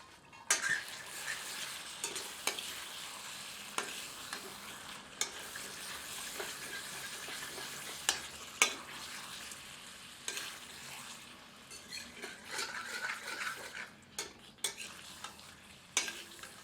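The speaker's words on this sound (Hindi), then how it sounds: "बीच बीच में करछी चलाते रहते हैं ताकि मसाला तली पर ना चिपके" Masala for yellow chili chicken is stirred with a ladle in a cooking pot over low heat, steady sizzling broken by repeated scraping clinks of metal against the pot, close and continuous, with no talking.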